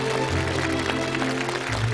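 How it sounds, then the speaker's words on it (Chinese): A studio audience on a Chinese television program applauds to welcome a guest, a dense, even wash of clapping with sustained music tones underneath for the full two seconds. "掌声有请孙老师。"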